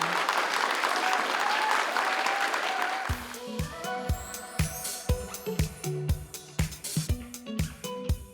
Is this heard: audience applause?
yes